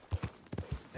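Horse hooves clip-clopping at a walk in the Red Dead Redemption 2 game world, a brute of a mount heading into town; five or six close, dull thuds in an uneven gait, with no talking.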